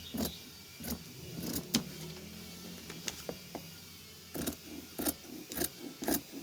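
Large fabric scissors snipping through patterned cloth, a series of sharp, close cuts in irregular bursts with short pauses between them.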